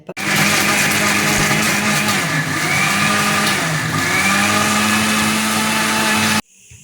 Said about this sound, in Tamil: இதை நைஸாக அரைச்சின்னு வந்துடலாம் மிக்சியில்